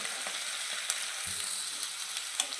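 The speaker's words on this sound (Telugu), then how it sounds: "ఈ ఆనియన్స్ ఈ కరివేపాకు ఇలా వేయిస్తుంటే పచ్చిమిర్చి వేయిస్తుంటే" Onions, curry leaves and green chillies fry in oil for poha, giving a steady, fairly quiet sizzle throughout with a few faint stirring clicks and no talk.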